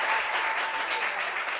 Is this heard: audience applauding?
yes